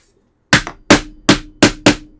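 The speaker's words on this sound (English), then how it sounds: "you can imagine what hitting the hammer sounds like" A hammer strikes metal five times to flatten it, in sharp, loud, ringing blows at a steady, slightly uneven rhythm after a moment of silence, on a workbench.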